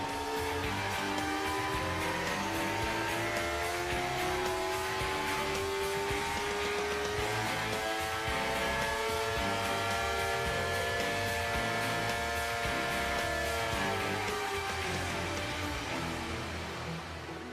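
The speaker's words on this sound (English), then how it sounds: "Here's our engine bench test room." Suzuki GSX-R motorcycle engine running bolted to a test stand in an engine bench test room, a steady loud droning whine with rising and falling harmonic tones, held continuously throughout.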